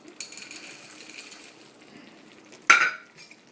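Frozen peas get stirred into stovetop chili in a pot, a faint soft scraping and rustle, then one sharp close metallic clank of the spoon against the pot.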